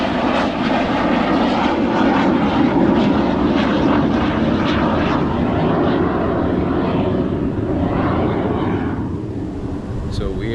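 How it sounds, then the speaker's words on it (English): An airplane flies over near an airport, a loud, steady engine roar filling the whole stretch and easing slightly toward the end. "we are close to an airport, so it will be common to hear airplane in here"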